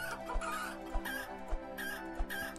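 Chickens in the game Planet Centauri give soft, repeated clucks over a low background of game music, with a few brief dull thumps spaced through it.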